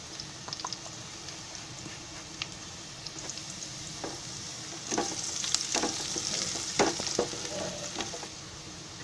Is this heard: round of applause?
no